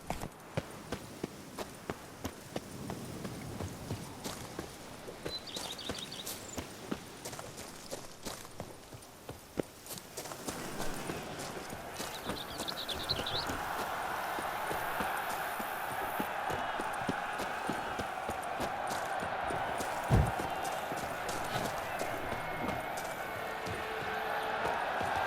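Roach, a horse in The Witcher 3 video game, trotting and galloping with steady rapid hoofbeat clip-clops throughout, fairly close, over a soft outdoor ambience with a few brief voice sounds.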